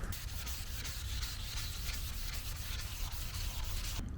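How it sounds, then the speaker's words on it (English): Steady, even wet sanding of a faded, yellowed BMW M3 carbon fiber spoiler with 600 grit paper, a close continuous scratchy rubbing that runs without pause and stops abruptly at the very end. "I won't bore you guys too much with just constant sanding."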